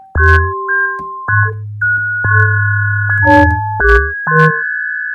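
Bright xylophone-like tones from the Xalophone iPhone app, struck one at a time in a sparse sequence, each note ringing on through a delay echo that repeats and overlaps the next, with no voices.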